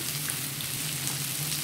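Batter-fried prawns go into a sizzling Kerala-style onion masala in a hot pan, giving a steady, even crackle and hiss with a faint low hum underneath, close and unbroken.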